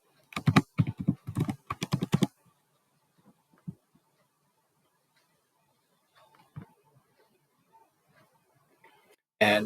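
A password is typed on a computer keyboard in a quick cluster of clicky keystrokes near the start. Near silence follows, broken by a few faint taps and a sharp burst at the end.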